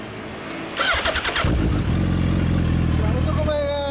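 A Kawasaki Ninja 1000 motorcycle with a Nojima exhaust cranks briefly, fires up and settles into a loud, throaty idle close by, while people talk in the background.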